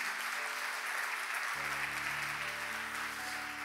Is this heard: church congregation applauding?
yes